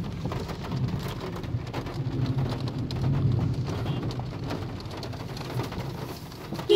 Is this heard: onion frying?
no